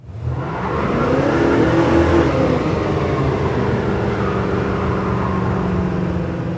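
A 1966 Ford Mustang GT accelerating hard, its engine climbing into a loud, close, sustained roar that rises in pitch and holds steady as the car keeps pulling.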